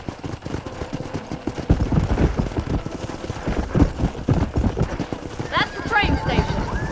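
Horse hooves in the video game Red Dead Redemption clip-clop in a steady trotting rhythm under a man's speech, with a brief whinny-like tone near the end.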